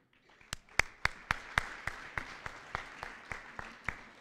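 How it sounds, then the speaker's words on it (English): Sparse, slow applause at a KC BizFest graduation ceremony, about a dozen distinct, evenly spaced claps that fade gradually, as if from only a few hands. "Let's give Gabriel a round of applause."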